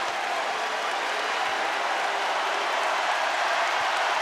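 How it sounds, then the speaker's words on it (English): A sellout basketball crowd at Littlejohn Coliseum applauding during a Duke vs. Clemson game, a dense, steady roar of clapping and cheering that holds at full level throughout. "this sellout crowd at Little John, Dan, has been treated to one of the best games the ACC staged so far this year"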